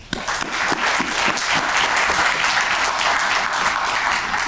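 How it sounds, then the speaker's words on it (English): A crowd at a ribbon cutting for the AURA building at Innovation Square in Cleveland breaks into loud, sustained applause. The clapping rises quickly and stays thick and even throughout. "You all deserve to give yourselves a rousing applause right now."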